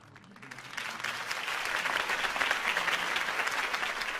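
Applause from a crowd after a campaign speech in Batman: The Telltale Series, a dense, steady clapping that swells in the first second and holds loud to the end.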